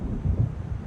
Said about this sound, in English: seems there's a storm coming.